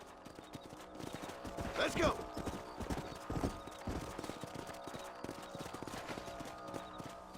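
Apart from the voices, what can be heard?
horse hooves clip-clop while riding, Red Dead Redemption video game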